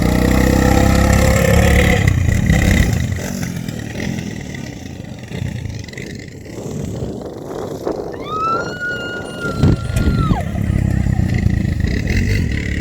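A quad bike engine drones loudly and continuously in sand dunes, its rough mid-pitched roar rising and falling with throttle. A brief rising whine is heard near the end, and there is no clear speech.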